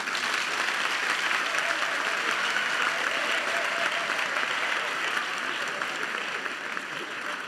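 A comedy show crowd gives full, sustained applause, many hands clapping in a thick, even wash that tapers only slightly near the end, with faint crowd murmur beneath.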